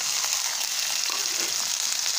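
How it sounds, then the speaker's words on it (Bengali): Garlic, onion and green chilies fry in hot oil in a wok, giving a loud, steady, bright sizzle that holds evenly throughout with no talking. "আমি কড়াইয়ে তেল দিয়ে দিয়েছি, রসুন পেঁয়াজ কাঁচামরিচ আমি তেলের মধ্যে দিয়ে দিলাম"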